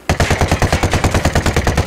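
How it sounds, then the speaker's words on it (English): Rapid automatic gunfire in the video game Ghost Recon Wildlands, a loud, close burst of about twenty evenly spaced shots with no talk over it. "Must have heard the gunshot."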